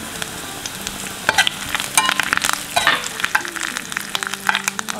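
Garlic sizzles and crackles in hot oil in a pan, with scraping and stirring bursts throughout, fairly close and steady.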